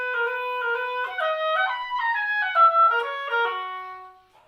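Solo oboe plays a sixteenth-note etude passage from Voxman Selected Studies in a dotted long-short rhythm, clear and close, with a steady stepwise melody of reedy tones and no talking.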